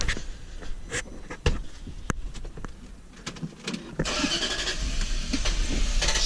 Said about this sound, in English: cuts out, starts up, keeps cranking like it ran out of fuel